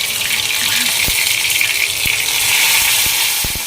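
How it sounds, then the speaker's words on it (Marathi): A loud, steady sizzle of hot fat hitting liquid, hissing continuously with a few soft clinks and splashes underneath. "ही फोडणी आपल्याला घालायची आहे आमटीमध्ये"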